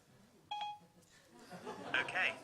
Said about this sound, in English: set a timer for 7 minutes